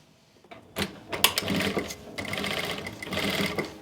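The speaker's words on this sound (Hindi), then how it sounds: "अब हम दूसरी तरफ से सिलाई लगाते हुए पूरे राउंड में सिलाई लगा लेंगे।" An electric sewing machine stitching around the neckline of an Anarkali kurti with buckram, starting with a few clicks before a fast, steady whirring run, a brief pause, then another run, close by.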